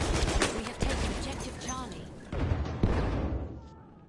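Gunfire in Battlefield 1, bursts of rapid shots crackling close and loud in a busy battle, with a voice talking over parts of it.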